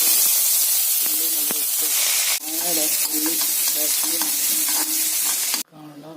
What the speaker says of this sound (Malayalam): അതിന് കടുക് വറുത്ത് ഉള്ളി വറുത്ത് പൊട്ടിച്ചു